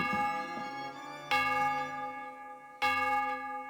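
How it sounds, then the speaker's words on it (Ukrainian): Church bells ring without stopping in the video game Dentures and Demons. There are three loud, clear strikes about a second and a half apart, and each one leaves long, resonant ringing that slowly fades. No one talks. "Дзвони дзвонять без зупинки."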